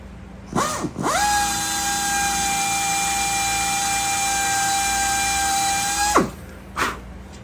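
A power drill spins up with a whine while drilling out a rivet on a Van's RV-14 aircraft horizontal stabilizer, holds a steady high-pitched drone for about five seconds, then winds down, followed by a brief second burst.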